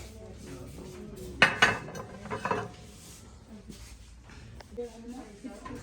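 Dishes clink and clatter in a few brief bursts, quiet and close, with faint background sounds around them.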